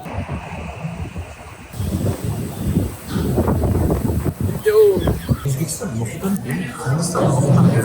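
Wind buffets the microphone in rough gusts while people talk close by in Dubai, the rumble rising and falling throughout.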